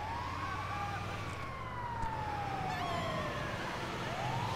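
An ambulance siren wails in the video game Grand Theft Auto V, a steady sweeping tone rising and falling over continuous engine and traffic noise, moderately loud throughout.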